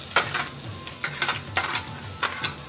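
Ginger sautéing in oil in a pan, with bursts of sizzling and stirring scrapes coming in irregular pulses, close and clear, with no talking.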